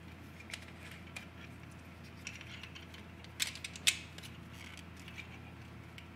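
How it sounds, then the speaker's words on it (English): A swivel mount is screwed into the bottom of a DEKER kids waterproof camera, giving faint ratcheting clicks and small creaks, with a couple of sharper close clicks near the middle over a quiet background. "and then this screws into the bottom."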